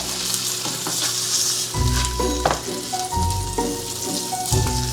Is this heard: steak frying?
yes